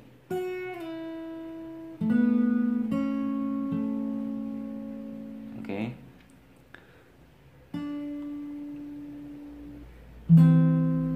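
Plucked guitar notes, picked one or two at a time with pauses between, each ringing and slowly decaying; played alone with no voices.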